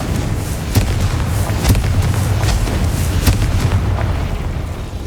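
Bombarda and Confringo explosion spells in Hogwarts Legacy, a dense run of booming blasts and crackling bursts rolling one into another at close range.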